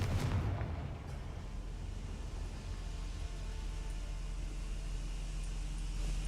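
A Confringo fire spell explodes in the video game Hogwarts Legacy: a sharp blast at the start gives way to a deep, rumbling low roar that holds steady, loud and close, with no talking.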